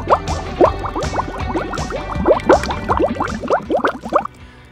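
Two cups of water poured for blackberry lemonade, a bubbling, gurgling stream of liquid with quick splashy drips, close and fairly loud, ending abruptly near the end.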